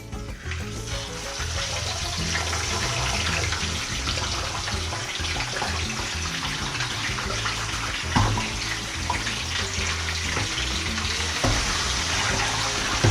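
Pork belly for lechon kawali deep-fries in hot oil under a balanced lid, a loud, dense, continuous sizzle and crackle with scattered sharper pops throughout, close up and without talk.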